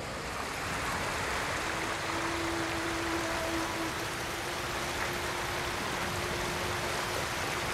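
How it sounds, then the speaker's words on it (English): Steady rushing water from a waterfall in the game Ghost of Tsushima, a broad even roar filling the whole stretch, with a faint sustained tone running underneath and no talking. "let's go through this waterfall and see what happens on the other side"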